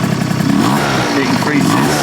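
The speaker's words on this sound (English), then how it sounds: "You see when we're revving up," A small 50cc scooter engine revs up, its pitch rising and falling in close, steady bursts, with a voice speaking over the engine noise.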